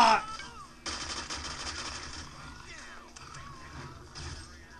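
Gunfire in the zombie game Dead Rising 2: a loud sharp shot right at the start, then rapid bursts of automatic fire crackle through the rest with clanking mechanical noises and brief indistinct vocal sounds mixed in.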